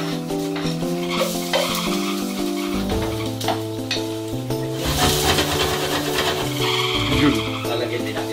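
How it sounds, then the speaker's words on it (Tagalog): Garlic sautés in sesame oil, a continuous loud sizzle with stirring scrapes against the pan, close by, under steady background music. "lalagay na natin, igisa natin itong bawang"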